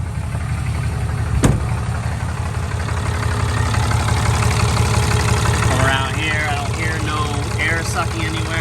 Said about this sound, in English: we're just gonna let it idle for a while and make sure there's no leaks